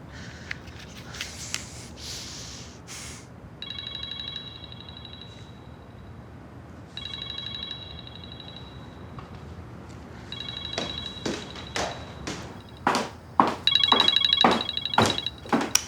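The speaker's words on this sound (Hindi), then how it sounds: "रिंग की आवाज यहां से।" A telephone rings in bursts of bright electronic tone, repeating at a regular pace and growing busier toward the end, mixed with short, sharp clattering noises, with no talk.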